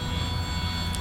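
A supersized scratch-built scale RC Bell 47G H-13 Sioux helicopter runs on modified Zenoah G30cc gasoline engines, giving a continuous loud droning buzz with steady throb, close and alone without speech.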